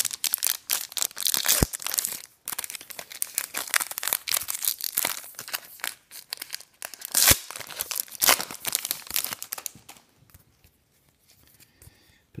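Foil wrapper of a Topps Star Wars Rogue One trading card pack being torn and crumpled open, dense close crinkling and ripping that fades to near quiet at the end.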